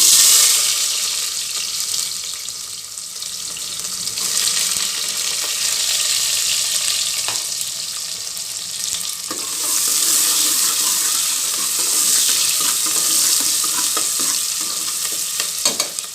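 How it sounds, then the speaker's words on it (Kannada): Onions sizzle in hot oil in a pressure cooker, a continuous loud frying hiss with occasional stirring scrapes and no talk. "ನೋಡಿ ಎಣ್ಣೆ ಕಾದಿದೆ ಈರುಳ್ಳಿ ಇದ್ದೀನಿ"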